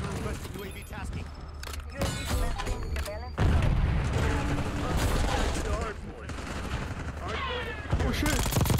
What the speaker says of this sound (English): Oh, that nade killed me.